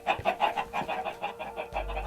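Repeated clucking from several chickens in Minecraft, a steady busy chatter of short calls with a low thump near the end, as in a game soundscape.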